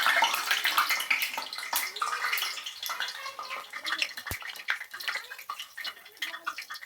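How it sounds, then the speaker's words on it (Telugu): Millet (sajja) dough patties sizzle in hot oil: a steady, close crackling hiss with scattered pops and spatters and no talking. "నానిన పిండిని ఇలా చిన్నగా అరిసెలాగా ఒత్తుకొని నూనెలో వేసుకోవాలి."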